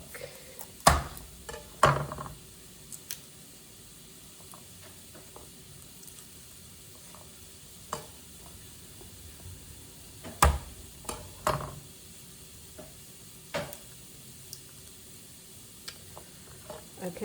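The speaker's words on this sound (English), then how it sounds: "Can you hear those onions sizzling a little?" A soft, steady sizzle of onions frying in a pan, with occasional clicks and scrapes of stirring, close by and quiet.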